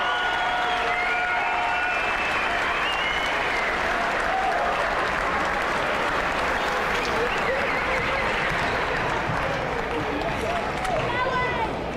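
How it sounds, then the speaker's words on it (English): A gym crowd at a high school basketball doubleheader between Baldwin and Bonner Springs gives seniors on senior night a loud, sustained round of applause, with cheering voices mixed in throughout twelve unbroken seconds. "Let's hear it one more time for this amazing group of seniors with one more huge round of applause"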